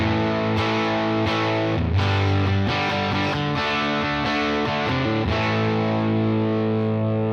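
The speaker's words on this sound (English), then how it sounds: "if I distort it by bringing up the boost, let's say going into lead mode, crank the boost, crank the volume" Electric guitar run through a UAFX Dream '65 amp in lead mode with the boost and volume cranked, giving a thick, heavily distorted sustained tone. Strummed chords and notes ring loud and continuous for several seconds with no talking.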